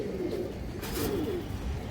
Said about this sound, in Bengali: একটা গিয়া চুল্লি চুষা মাদি কবুতর আছে